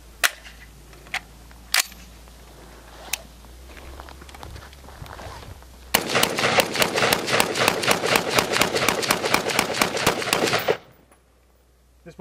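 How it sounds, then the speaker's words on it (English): An M4 carbine of the AR-15 family empties a 30-round magazine in a long, rapid string of loud, sharp shots lasting about five seconds, preceded by a few scattered clicks and handling noises, then abrupt silence. "here we have the M4 carbine, or weapon from the AR-15 family of weapons, and 30-round magazine"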